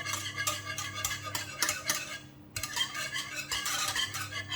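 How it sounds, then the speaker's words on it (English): A small whisk works through a pan of cheese sauce for a low oxalate cheese bake, giving quick, repeated metallic scrapes and clinks against the pan at a close, steady pace, with a short pause partway through. "I'm just going to use a small whisk just to make sure there's no lumps"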